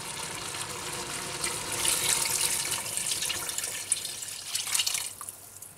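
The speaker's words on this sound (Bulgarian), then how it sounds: "И наливаме вода." Water pours from a tap or jug into a cooking pot holding sautéed meat and carrots, a steady close splashing fill that swells in the middle and tapers off near the end, with no talking.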